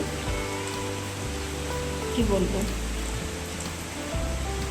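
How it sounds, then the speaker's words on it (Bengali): Light drizzling rain falls at dawn in steady soft hiss, with a cool breeze, while a person talks briefly over it nearby. "ঝিরিঝিরি বৃষ্টি হচ্ছে"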